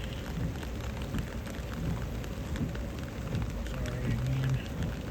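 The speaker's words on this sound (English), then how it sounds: "Raining, but not as bad." Steady rain falls outdoors near railroad tracks, a continuous close patter and hiss with a low rumble underneath and a brief tonal sound near the end, and no voices.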